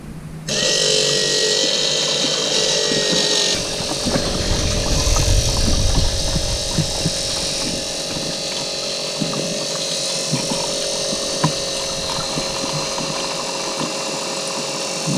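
A 12-volt oil pump pumps hydraulic oil, its electric motor whining steadily with a tonal hum, a brief rougher churning stretch early on and occasional clicks and small knocks nearby.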